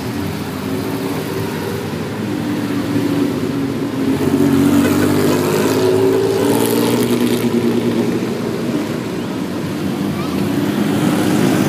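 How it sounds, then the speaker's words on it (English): Vintage Fiat Abarth race cars driving in a parade at the Lime Rock Historics, a continuous loud engine drone with rising and falling revs as cars pass nearby. "Our Fiat Abarths have made their way back."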